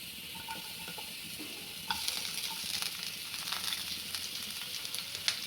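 Chopped onion frying in a pan for Maharashtrian bazar amti gives a soft steady sizzle, with a few light clinks and scrapes of stirring that grow slightly busier partway through; nobody speaks.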